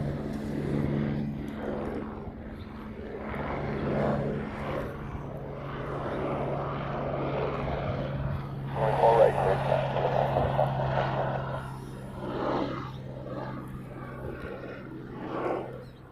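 Boeing 717 airliner departing Honolulu airport for Maui, a steady distant jet engine roar swelling and fading over outdoor ambience, with a person talking over it.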